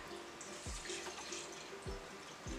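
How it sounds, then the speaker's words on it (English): Spiced syrup is poured off a batch of preserved red mangoes, a steady, soft liquid trickle with a few low splashes recurring through the pour. "We're going to pour our liquid out"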